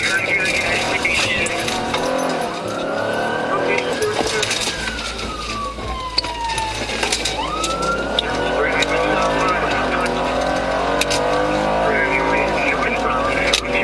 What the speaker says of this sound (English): The driver confirmed it by slamming the gas and took off.